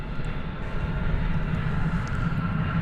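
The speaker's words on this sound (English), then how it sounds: "And here comes the Delta flight from Salt Lake City." A Delta airliner arriving from Salt Lake City roars steadily as it comes in to land at DFW Airport, a loud, continuous engine rumble with no talking.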